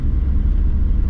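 A Ford Transit minibus driving along a coastal road on the Otago Peninsula near Dunedin, a steady low engine and road rumble heard from inside the vehicle throughout.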